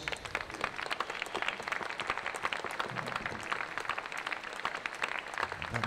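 Applause from spectators at a winter swimming championship ripples through an echoing pool hall, fairly faint and distant, a continuous patter of many hands for several seconds.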